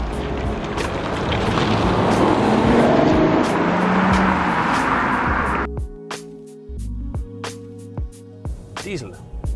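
A BMW 6 Series Gran Coupe with a diesel engine drives with a loud, steady road and engine roar for about six seconds, then cuts abruptly to quieter, sparse tonal sounds.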